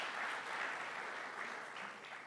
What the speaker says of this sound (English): So we can give that a round of applause.